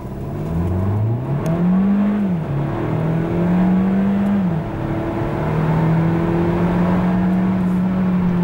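Hyundai Kona 1.6 T-GDI turbo petrol in sport mode sprinting from standstill to 100 km/h, engine note rising steadily through the gears with brief dips at each upshift, loud and continuous with no talk.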